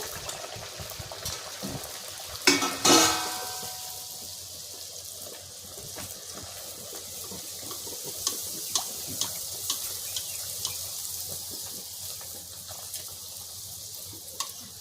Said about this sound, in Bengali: এরপর আমি ভাজি। তেলটা গরম হয়ে গেছে